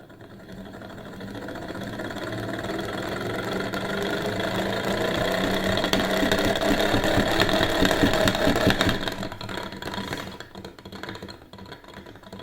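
A hand-spun eccentric cycloid generator, disconnected from any load, whirs in a dense mechanical buzz that swells as it is cranked as fast as possible, then winds down and fades near the end.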